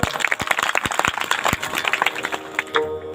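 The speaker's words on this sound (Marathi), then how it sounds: "टाळ्या वाजवा एकदा यांच्यासाठी" An audience at a devotional kirtan in Alandi applauds the performers, a loose burst of scattered hand claps close by that thins out toward the end.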